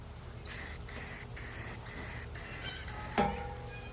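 Repeated bursts of spray paint hiss onto a Kawasaki KE175 motorcycle air filter cover, six short even blasts in a steady rhythm, close and fairly loud, followed by a brief clatter.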